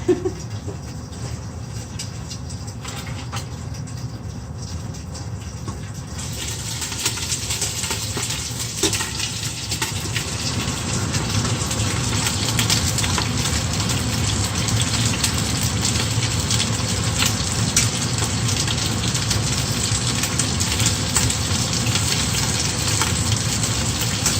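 Oil splatters and sizzles in a pan while sinigang cooks, a dense crackling hiss that grows louder after a few seconds and then keeps going steadily and close.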